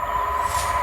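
A ScotRail diesel multiple unit passing a level crossing, a steady close rumble with a sustained warning-tone hum over it, heard briefly without pauses.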